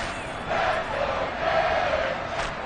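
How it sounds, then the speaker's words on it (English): A football stadium crowd at a Packers versus Dolphins game roars and cheers before a big third down, a loud sustained swell of many voices that builds slightly and holds. "The crowd getting into it as we come up on a big 3rd down"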